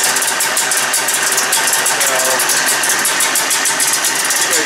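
A 1981 Scorpion Sidewinder .440 liquid-cooled snowmobile engine runs steadily and loudly up close, with a dense, buzzing, hissy roar that holds constant throughout and no talking.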